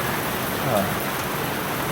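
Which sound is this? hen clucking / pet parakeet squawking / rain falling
rain falling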